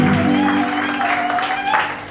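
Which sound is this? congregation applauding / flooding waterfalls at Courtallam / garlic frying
congregation applauding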